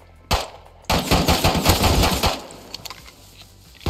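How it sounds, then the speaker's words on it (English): Rapid automatic gunfire in the video game Rust, one short burst followed by a long sustained volley of loud, close shots that trails off into scattered quieter pops. "there's people all over it, just shooting at each other"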